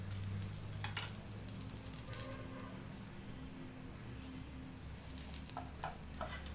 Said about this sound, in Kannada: ಹಂಚಿಗೆ ಹಾಕೊಂಡು ಸ್ವಲ್ಪ ಎಣ್ಣೆ ಸೇರಿಸ್ಕೊಳೋಣ